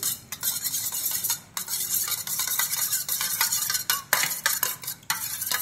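Egg fried rice is stirred in a pan with a metal utensil, which scrapes and clinks in a quick, uneven rhythm close by.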